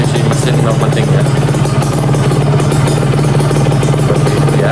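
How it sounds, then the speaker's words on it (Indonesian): A two-stroke Kawasaki Ninja R motorcycle engine runs steadily nearby, a constant buzzing drone with a rattly texture, loud and continuous throughout. "Seperti itu ya teman-teman suaranya."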